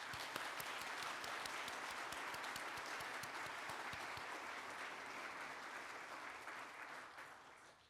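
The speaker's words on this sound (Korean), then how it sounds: "지금 무대 위에 자리해 주신 수상자분들께 따뜻한 박수 부탁드리겠습니다." An audience at the 2023 Samsung Ho-Am Prize ceremony applauds award winners on stage, with broad steady clapping that is loud at first and then gradually fades away toward the end.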